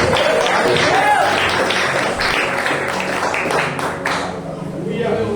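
A church congregation applauding during a worship service, a broad wash of clapping with scattered sharper claps and voices mixed in, thinning out toward the end.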